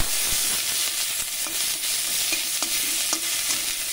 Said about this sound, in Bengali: এবার দিয়ে দিচ্ছি কেটে রাখা পেঁয়াজ, কাঁচা লঙ্কা, একটু ভালো করে নেড়ে নেব।